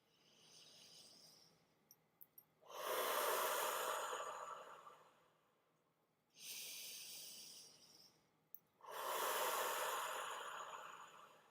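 Slow, deep meditative breathing, close and steady: a long inhale then a long exhale, repeated twice, with brief soft clicks in the pauses and no talk.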